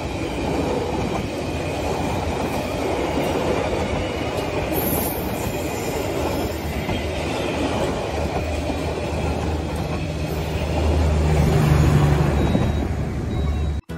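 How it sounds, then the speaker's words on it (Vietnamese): A passenger or freight train of many linked cars runs along railway tracks, a loud continuous rumble with rattling wheels and a low drone that swells toward the end. "Xe lửa gồm nhiều toa nối với nhau, chạy dọc theo đường ray"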